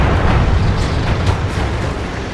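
A heavy tank gun fires at a Nashorn in the World of Tanks game: a loud, deep, rumbling boom that rolls on continuously and fills the whole moment, close and dense.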